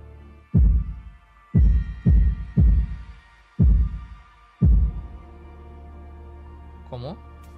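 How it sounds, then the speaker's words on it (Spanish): Through a stethoscope in the horror game Tormented Souls, a heartbeat thumps five or six times as deep, booming pulses at an uneven pace, followed by a low hum and a brief rising tone. "Supongo que con el estetoscopio se podría escuchar los latidos del corazón."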